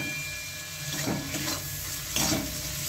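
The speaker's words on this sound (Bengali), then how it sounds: "সেই শুকনায় তেলের মধ্যে মোটামুটি ভেজে আমি এটাকে নামিয়ে নেব।" A ground paste of onion, garlic and dried chili, with turmeric and salt, frying in oil without water. A continuous sizzle rises and falls with bursts of stirring and scraping.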